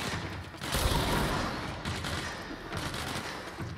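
Gunfire in the video game Control: a dense, steady burst of rapid shots at moderate distance fills the moment, rolling on without a break.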